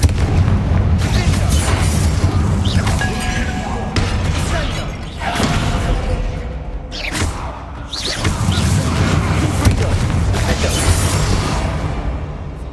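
A Confringo blasting spell from a wizard video game erupts in loud, booming explosions: several heavy blasts and crashes over a dense, rumbling game soundscape, with a voice briefly calling out the spell.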